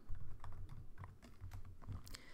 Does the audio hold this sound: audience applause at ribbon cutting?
no